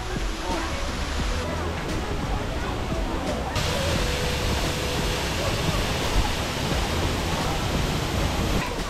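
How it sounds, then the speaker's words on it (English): A waterfall on Jeju plunging straight into the sea, a constant hissing rush of falling water, loud and close, with a busy crowd murmuring faintly beneath it. "this is the only waterfall in East Asia that falls"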